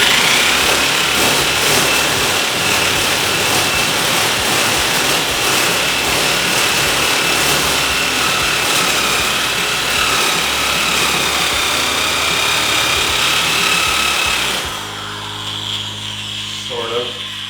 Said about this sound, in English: Harbor Freight shears aren't the best, but